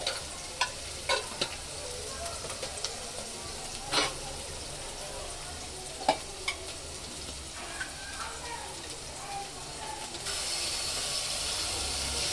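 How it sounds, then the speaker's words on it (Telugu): Onions frying in a pan for chicken curry, with tomatoes and red chillies dropped in, give a steady close sizzle broken by scattered clinks and stirring scrapes. "ఉల్లిగడ్డలు మంచి కొంచెం కలర్ వచ్చిన తర్వాత దాంట్లో టమాటాలు, కొంచెం ఎర్రమిరపకాయలు వేస్తాం."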